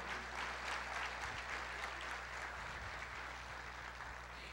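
A church congregation claps in praise, a soft, distant, steady wash of hands over a low constant hum, with no clear voices.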